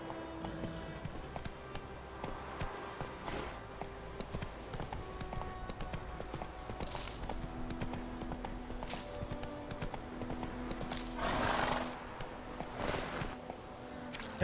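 Horse hooves clop steadily at a walking pace in The Witcher 3, moderately loud, over a constant synthetic background ambience.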